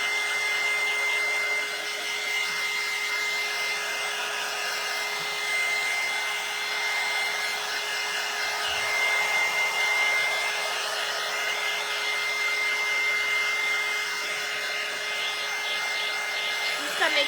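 A hair dryer blowing steadily on a St. Patrick's Day craft mailbox, a loud, constant close-up whir holding for the whole stretch with no pauses.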